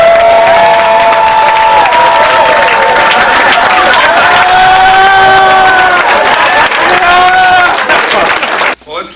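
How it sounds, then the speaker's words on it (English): A comedy-show crowd at the Halifax Pop Explosion claps and cheers loudly and steadily, with whoops and shouted voices riding over dense applause before it cuts off abruptly near the end. "Everyone clap really loud."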